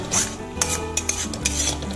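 Spice paste for Katla fish curry stirred and fried in a pan, close spoon scrapes and clinks against the pan over a low, steady sizzle.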